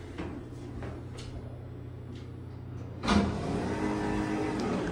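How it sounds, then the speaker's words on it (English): A ThyssenKrupp Synergy elevator door operator runs with a soft mechanical hum and faint thumps, then the door closes with a sharp clunk followed by a steady motor drone as the car moves off. "Ooh, that's a nice sounding door operator."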